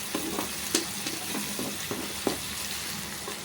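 Onions being sautéed in a home kitchen pan for a ridge gourd vegetable kootu, giving a soft steady sizzle with a few scattered stirring clicks and scrapes, moderately close.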